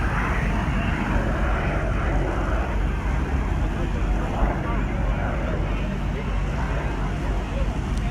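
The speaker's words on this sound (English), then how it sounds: "There goes the plane." Propeller airplane passing over a Top Fuel drag racing qualifying event at Soboba Casino, a steady loud broadband engine drone filling the whole stretch with wind buffeting and no talk.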